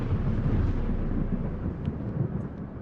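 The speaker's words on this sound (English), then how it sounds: "lightning was quite loud" Deep, rolling thunder after lightning in the horror game The Empty Eyes: a loud, steady low rumble across the whole stretch with no voices.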